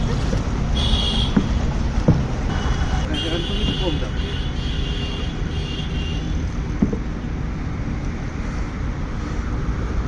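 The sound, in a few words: rowing a boat on water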